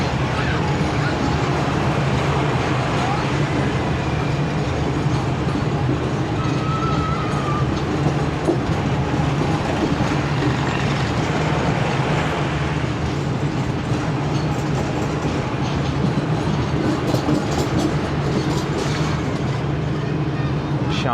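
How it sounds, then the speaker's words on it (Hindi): Shalimar Express rolls along the ML1 track near Sadiqabad, slowing down. Its steady, loud rumble of wheels and carriage noise continues without a break throughout. "दोस्तों अब सादकाबाद आने वाला है और उसके लिए स्लो हुई है ट्रेन।"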